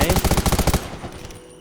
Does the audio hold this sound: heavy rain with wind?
no